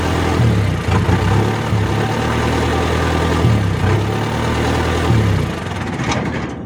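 A car engine idles steadily and loudly with a low, even rumble, running on after one battery cable, the positive one, is disconnected; the hum softens slightly near the end.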